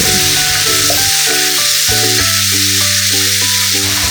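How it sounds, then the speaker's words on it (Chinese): Noodle stir-fry ingredients sizzle steadily in a hot wok over high heat after soy sauce is poured in, a continuous loud frying hiss with shifting tonal clatter as the food is tossed, no talking. "倒入红烧酱油23克，翻炒均匀"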